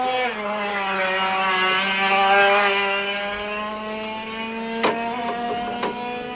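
A specially prepared racing kart's small two-stroke engine runs at a steady, fairly loud buzzing pitch, rising slightly and then holding, with a couple of sharp clicks near the end.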